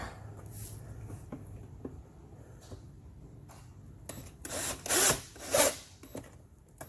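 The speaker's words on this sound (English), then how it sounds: "We're going to get a drill in there." Quiet taps and clicks lead into two loud, short bursts of a drill whirring close by, each lasting under a second, drilling during a glove box lock installation on a Can-Am Ryker motorcycle.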